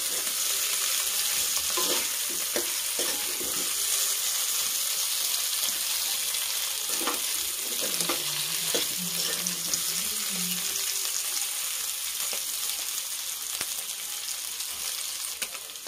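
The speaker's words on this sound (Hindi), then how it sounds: "इसको हम गोल्डन ब्राउन होने तक फ्राई करेंगे" Potatoes frying toward golden brown, a constant hissing sizzle over the whole stretch, with occasional spatula stirs and clinks, moderately loud and close, no talking.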